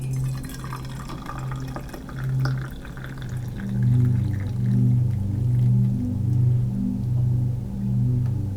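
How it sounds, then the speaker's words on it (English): Hot tea poured into a cup, a steady liquid stream with gurgling, bubbling tones rising and swelling in waves for several seconds, fairly close and loud with no talking. "I'm gonna go ahead and pour the tea"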